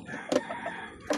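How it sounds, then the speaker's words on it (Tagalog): Laying hens cluck in short bursts, two brief close clucks separated by a quiet pause with faint rustling between. "Ayan, yung aking mga inahin."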